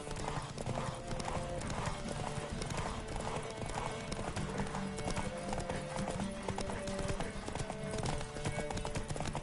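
Horse galloping in The Witcher 3 video game, rapid rhythmic hoofbeats drumming steadily throughout, with a snort or whinny mixed in under game sounds and a faint voice.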